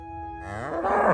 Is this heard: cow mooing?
yes